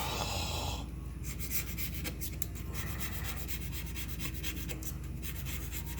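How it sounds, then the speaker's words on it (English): Gasket scraping on a Ford Model A engine in a home garage: steady, close rasping and rubbing strokes with a continuous gritty texture and no talk. "am not in the mood for scraping gaskets."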